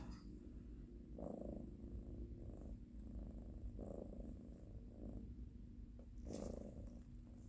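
A pet cat purrs close by in soft, rhythmic rumbling pulses, quiet and steady, with a brief louder rustle near the end.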